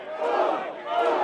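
A wrestling arena crowd at Basebrawl 4 roars in a short, loud, sustained cheer, many voices blending into one swelling shout that rises briefly and holds.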